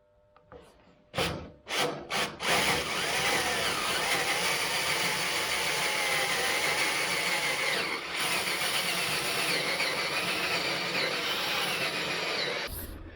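A self-tapping threaded insert cuts threads into oak, opening with a few sharp knocks and then a long, steady grinding rasp close by that cuts off abruptly at the end, with no talk.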